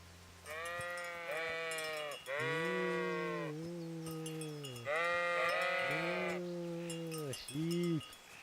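Sheep in the medieval role-playing game Kingdom Come Deliverance bleat again and again, long wavering calls coming in several separate bursts, loud and close, with no talk over them.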